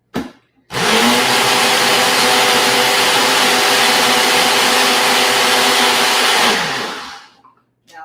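After a short buzz, a blender pureeing baby food roars at full power in one loud continuous burst of about six seconds, then winds down and cuts off.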